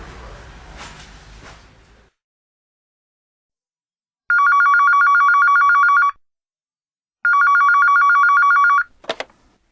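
A telephone rings in two long electronic trilling bursts with a pause between them, loud and close, followed by a brief clatter as it is picked up.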